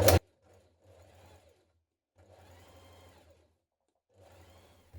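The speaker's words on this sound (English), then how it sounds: "Now understitch a few millimetres away from that seam that we've just created onto the pocket" A sewing machine understitches a few millimetres from a pocket seam on a jumpsuit, running in three short, quiet bursts separated by pauses, heard up close and alone.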